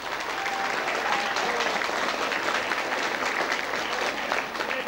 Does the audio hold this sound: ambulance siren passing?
no